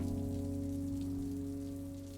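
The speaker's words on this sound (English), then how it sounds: "look at all this rain" Steady rain falling in the video game Necrobarista, a constant close wash of drops on surfaces, with a low tonal hum of game ambience underneath and no talking.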